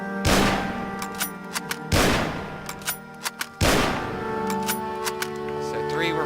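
Three loud shots from a modded gun in Fallout 4, spaced about two seconds apart, each ringing out briefly, with small mechanical clicks between them.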